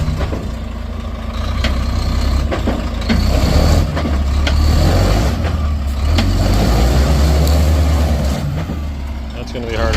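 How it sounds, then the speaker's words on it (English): A stuck truck sits on hard rock and tries to rock itself free without traction. Its engine revs and surges in repeated pushes with a heavy low rumble, and people talk over it throughout. "He's sitting on the rock here, but he just can't get any traction."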